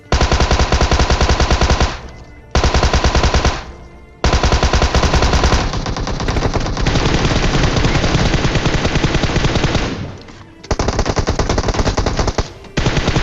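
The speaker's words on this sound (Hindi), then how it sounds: "एक और टीम आ जाती है जो कि ऊपर से फायर करती है" Loud automatic gunfire from the mobile battle royale game PUBG Mobile rattles in long rapid bursts separated by short gaps, sustained and close, with no voices.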